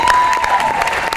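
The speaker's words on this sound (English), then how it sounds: "give him a round of applause" Audience at a university athletic hall of fame dinner applauding a coach, loud close clapping from many hands with a sustained tone or whistle running underneath.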